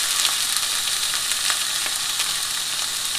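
Chicken drumlets and steak frying together in a pan give a loud, dense, steady sizzle with faint crackles and occasional stirring scrapes, close and uninterrupted, with no talking.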